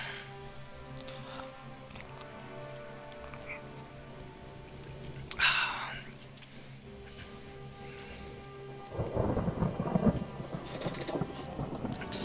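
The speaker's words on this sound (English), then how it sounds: "Except it's a storm" Thunderstorm at sea in the naval warfare game Ultimate Admiral Dreadnoughts: a steady bed of rain and wind with a sharp thunderclap near the middle, then a louder rolling rumble toward the end.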